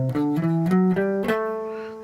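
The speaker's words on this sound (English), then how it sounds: "There's our A Dorian scale." Guitar plays an A Dorian scale as a run of single picked notes, each stepping higher in pitch at an even pace, clear and close with no talking over it.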